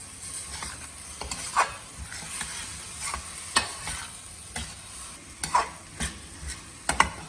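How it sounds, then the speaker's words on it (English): Salted vegetables cook in a pan for a healthy dinner, giving a steady low sizzle broken by irregular scraping clicks and sharper knocks as they are stirred, close and moderately loud with no talking. "I'm going to cook this for another 3 to 4 minutes"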